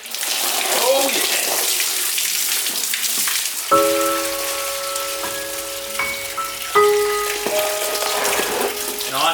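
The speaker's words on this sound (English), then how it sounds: "So the radiator fluids come out quite clean, which is a good sign that this was a healthy motor." Green radiator coolant splashes out of a Nissan Patrol engine onto a surface, a continuous spattering pour with a steady tonal hum partway through.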